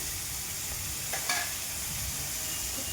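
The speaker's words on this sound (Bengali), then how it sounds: "এখন আমি চিংড়ি মাছটা একটু ভাজা ভাজা করে নেব" Prawns frying in mustard oil give a steady close sizzle, with a couple of brief scraping stir sounds in the middle.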